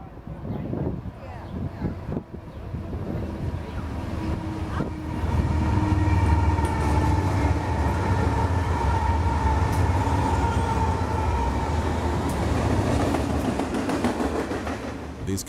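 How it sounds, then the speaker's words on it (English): A heavy BNSF double-stack container freight train rumbles close by as it speeds through a California station, a loud steady roar of wheels and rails building up and holding for the whole stretch. "a BNSF double-stack train from the ports speeds through the station"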